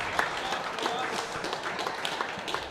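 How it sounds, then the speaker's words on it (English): A crowd at the Vic Open 2025 lawn bowls mixed pairs knockouts applauds and cheers after a game, a broad wash of clapping heard under a commentator's steady talk. "cheer from the crowd"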